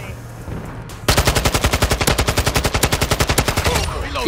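Automatic gunfire from the video game Modern Warfare 2 erupts after a brief lull, a loud, rapid, evenly spaced burst of shots sustained for about three seconds before fading out.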